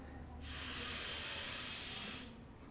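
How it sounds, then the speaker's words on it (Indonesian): A single long, steady breath drawn in, loud and close, taken while sitting upright during a back-pain stretching exercise, swelling over about two seconds and then stopping. "Kita tarik nafas"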